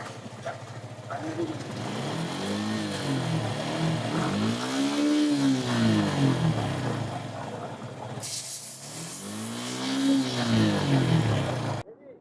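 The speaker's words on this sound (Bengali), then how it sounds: "চলেন তাহলে আগে বাইকের এক্সস্টের সাউন্ডটা একটু শুনে আসি" A Suzuki Gixxer 155cc FI ABS motorcycle exhaust, fitted with an Orca spark plug, rumbles with rising and falling revs, a steady engine drone swelling in several waves before cutting off abruptly near the end.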